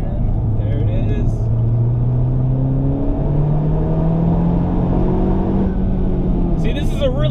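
A Honda Civic Type R engine climbs in pitch as it accelerates through a corner, dropping briefly at a gear change before pulling again, with someone talking over it.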